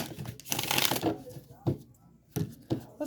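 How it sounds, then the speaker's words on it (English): Tarot cards are shuffled by hand in a dense riffling burst, followed by a few sharper separate card snaps, close and fairly loud, while a voice speaks at times. "One more shuffle."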